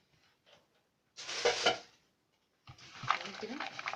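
Chopped pizza topping ingredients, including small cubes of pickled vegetables, are tossed together in a bowl in two short bursts of clattering and scraping, separated by near-silence.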